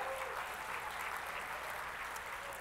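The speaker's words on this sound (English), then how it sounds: "which deserves applause in this room." Steady, dense applause fills the room at the HRC Visibility Award ceremony honoring Nina Jacobson, heard at a moderate distance and fairly soft, without a break.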